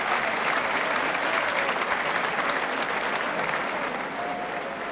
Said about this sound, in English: And even the Hull spectators joining in the applause.